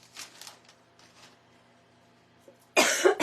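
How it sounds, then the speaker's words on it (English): A woman with a lingering illness gives one sharp, close cough near the end, after a few seconds of faint rustling and quiet room noise. "Y'all, I still have that cough."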